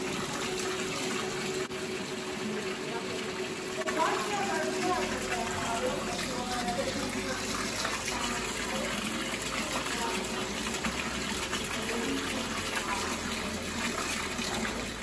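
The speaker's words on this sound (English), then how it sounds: "Underneath the dendrobium ball is the waterfall, which was planted with Paphiopetalums." Indoor waterfall in a tropical orchid greenhouse gushes with a steady, broad splashing wash, constant and moderately loud, while someone talks over it.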